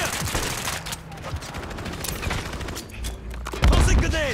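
Dense rapid gunfire and bursts in a Call of Duty match roar continuously, with a heavier boom near the end and game voices mixed in.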